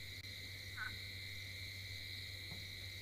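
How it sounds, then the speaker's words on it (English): Night chorus of frogs and insects in an African safari setting at dusk, with steady high insect trills and a low continuous frog drone, plus a brief croak, quiet and distant with no voices. "all we can hear is insects and frogs"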